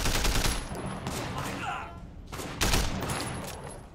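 Gunfire in the open-world action game Sleeping Dogs, with several bursts of shots and impacts crackling close and loud over a busy game soundscape.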